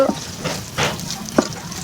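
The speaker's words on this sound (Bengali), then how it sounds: "কাঁচামরিচ, পেঁয়াজটা দিয়ে দিব। পেঁয়াজটা ভেজে নিব।" Chopped onions and green chillies fry in a pan, a continuous close sizzle broken by a couple of scraping stirs.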